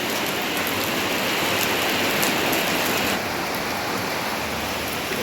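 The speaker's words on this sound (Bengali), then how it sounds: "এই দেখো বৃষ্টি বৃষ্টি বৃষ্টি" Steady rain falls heavily outdoors in the morning, a dense continuous hiss of drops on surfaces lasting throughout with no talking.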